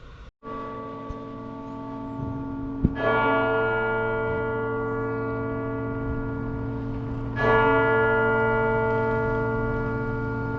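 Cathedral church bells in a city ring loud and close, two big struck tolls each swelling into a long, sustained, humming decay with no voices present.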